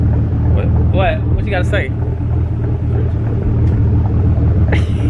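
Nissan 300ZX twin turbo idling with a deep, steady, rowdy rumble up close, while people talk briefly over it.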